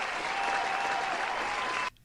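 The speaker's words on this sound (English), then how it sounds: "Then let me give a round of applause for that." A round of applause on a podcast, steady dense clapping at even loudness that cuts off abruptly near the end, with no voices over it.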